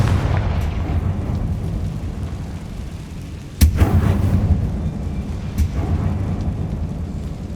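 Confringo spell blast in the video game Hogwarts Legacy, a deep rumbling explosion with a sharp boom midway, followed by lingering low roar and a smaller secondary crack.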